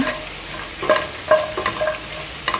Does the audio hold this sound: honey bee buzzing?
no